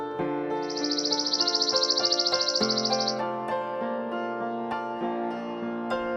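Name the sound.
sparrow chirping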